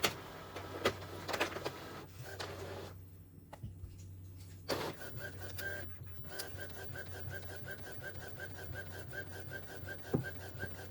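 An Epson XP-15000 inkjet converted for DTF printing with a continuous ink system runs its first print, a steady mechanical hum with repeated carriage passes and whirring, close and continuous, with brief pauses and clicks.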